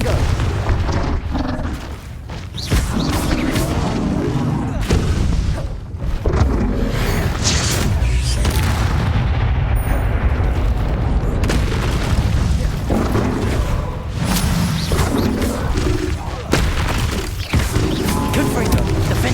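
Repeated Confringo fire-blast spell explosions in the Hogwarts Legacy video game, a string of loud, close booming bursts and crashes with brief gaps, dense rumbling throughout, partly under voices.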